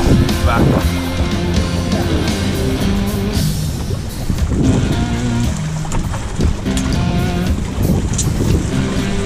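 Wind roaring across the microphone and waves rushing around a Hobie Cat catamaran sailing in surf during a regatta at Torquay, Australia, loud and continuous, with a voice speaking over it.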